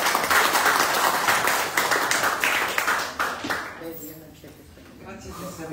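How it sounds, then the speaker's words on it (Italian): An audience at a poetry book presentation claps for a few seconds, a modest round of applause that fades out as a voice begins speaking. "Un applauso, grazie"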